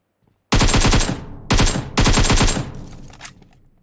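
Gunfire in the mobile battle-royale game PUBG Mobile: loud, rapid automatic bursts, three in quick succession, each a dense rattle of shots close up, trailing off into a fading echo.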